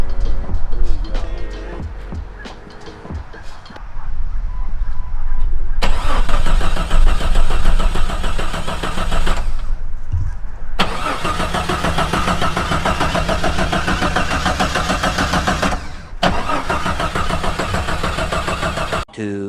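An old Jeep Commando engine cranks, catches and starts, then runs at a loud, rough idle with revving that briefly drops out and resumes, heard close by throughout.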